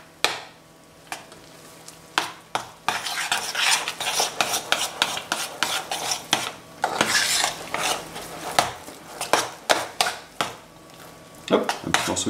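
A spoon stirs a croquette mixture with ham in a pan, scraping and clanking in repeated strokes amid a faint sizzle, close and fairly loud, with people talking now and then.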